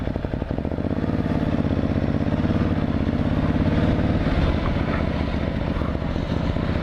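A motorcycle engine idles steadily close by, a continuous low rumble with a regular pulsing throb that stays even throughout, with no talking.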